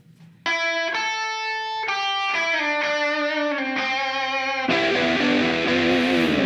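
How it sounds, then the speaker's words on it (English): Stratocaster electric guitar through light distortion plays a series of sustained notes and chords, loud and up close, building to a denser, grittier strummed chord near the end. "The bulk of the verse was just done with a strat and like a little bit of distortion."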